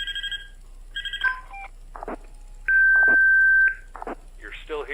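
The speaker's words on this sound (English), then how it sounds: "Now let's move over to the night 4 phone call." Phone call ringing in the FNAF fangame Graveyard Shift: clipped electronic beeps and dial-style tones in short bursts, then one long steady tone held for about a second, then further chirps, moderately loud with no talking.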